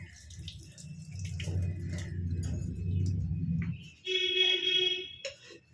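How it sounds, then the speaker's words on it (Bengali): Jaggery hand-wash water is poured into a cooking pan of fish kaliya in a home kitchen, giving a soft splash and low sizzle, then a brief clink of utensils, fairly quiet and close. "এখানে গুড়ের হাত ধোয়া জলটা দিয়ে দিলাম।"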